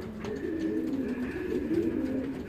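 Racing pigeons coo in a steady run of low, throaty murmurs, close by and continuous, layered over a faint background hum with no voices.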